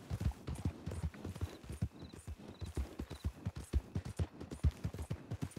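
Rapid, steady hoofbeats of a horse being trained in a Blackwater roleplay video game, a continuous clip-clop rhythm at moderate volume with no talk.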